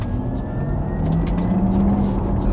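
A 2022 Porsche Taycan 4 Cross Turismo electric car accelerates hard; a steady electric motor whine climbs in pitch over loud road and cabin rumble, heard from inside.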